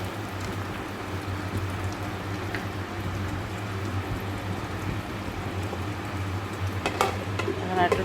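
Lentil dumplings (dal bori) fry among drumstick vegetables in a pan, giving a steady soft sizzle and crackle close by, with a few sharper pops and scrapes near the end.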